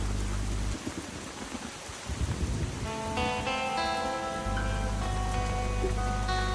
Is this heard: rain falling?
yes